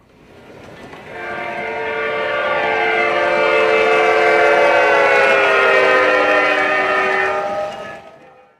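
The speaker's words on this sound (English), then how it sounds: "whenever the train passes this spot, the Doppler loop will activate all by itself." MTH Proto-Sound 2 model train passing with a Doppler-effect horn: a loud, sustained chord that swells in, holds for several seconds, bends downward in pitch and fades, over a light rolling clatter.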